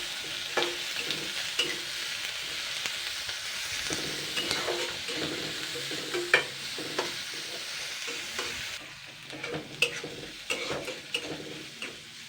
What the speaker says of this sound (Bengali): জাস্ট আমি 2 মিনিট মতন হালকা নাড়াচাড়া করব